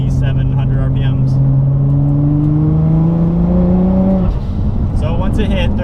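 A Rocket Bunny Nissan GT-R pulls hard in 4th gear from about 2,700 RPM under turbo boost: a loud, close engine drone rising steadily in pitch for about four seconds, then breaking off abruptly into a rougher, lower roar.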